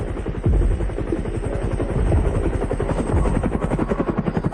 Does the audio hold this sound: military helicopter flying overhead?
yes